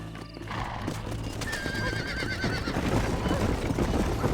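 A horse in the Red Dead Redemption video game gives a loud, drawn-out whinny over steady, close clip-clop hoofbeats that continue throughout.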